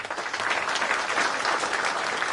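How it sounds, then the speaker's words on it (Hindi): Crowd applause during a political speech at a by-election rally, a steady, even roar of many hands clapping at a moderate distance with no break. "अब ताली बजाए"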